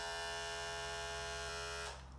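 An electric pet grooming clipper with a ceramic blade runs as a steady, close, buzzing motor hum with a high tonal whine, then winds down at the end, with no talking.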